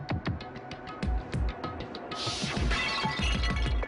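A Monokuma bottle shatters in the Danganronpa video game: glass breaks in a bright crash, with scattered impacts and clatter before and after it.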